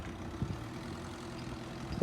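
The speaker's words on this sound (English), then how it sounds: "Sounds very much like he needs his exhaust looking at." A car engine with a faulty exhaust runs in the background with a steady low rumble, a couple of faint thumps rising above the drone.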